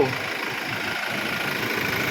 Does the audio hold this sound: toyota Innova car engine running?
yes